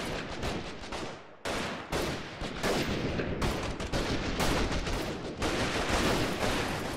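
Sniper rifle gunshots in the guerrilla warfare video game Freeman Guerrilla Warfare, a dense run of loud sharp reports and echoing gunfire with brief gaps, no talking.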